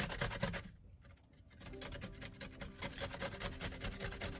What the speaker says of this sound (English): We're just going to grate the ginger.